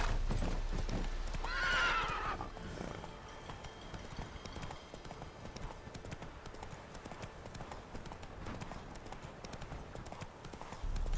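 A horse in The Witcher 3 gallops with rhythmic hoof clip-clops and gives a loud whinny near the start, then keeps trotting steadily under game ambience, with no talk.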